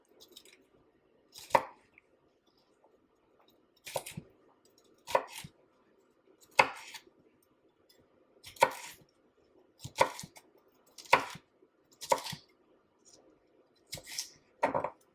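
A knife chops a green pepper on a cutting board in about ten separate, well-spaced cuts, each a crisp, close thud, with quiet background between them.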